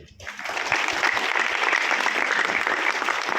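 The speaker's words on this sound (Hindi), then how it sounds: "राजीव जी के लिए तालियां बजनी चाहिए" A conference audience claps for Rajeev ji at a direct selling conclave, the applause rising quickly after a brief pause and holding steady and loud, with faint voices mixed in.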